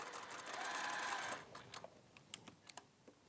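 A sewing machine stitches a half-metre Ascot scarf in a steady, fast whirring run that stops after about a second and a half. A few light clicks and taps follow as the fabric is handled.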